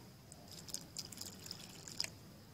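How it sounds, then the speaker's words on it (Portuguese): Water poured onto a freshly planted avocado seedling, heard as faint scattered drips and small splashes over a quiet background, with no talking. "Vou jogar um pouco de água aqui."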